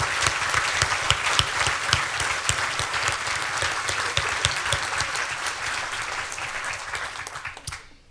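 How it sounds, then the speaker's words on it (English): An audience at a Greenway breakfast applauds public servants, many hands clapping with some sharp individual claps standing out, holding steady before cutting off abruptly at the end. "please raise your hands so we can give you all a round of applause"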